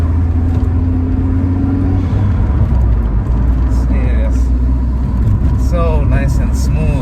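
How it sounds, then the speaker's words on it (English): A VW Golf with an 02J manual gearbox drives along, its engine a steady loud drone mixed with road rumble, picked up by a camera mounted at the rear, with a few faint higher tones over the noise. "the GoPro will pick up the sound of the Golf"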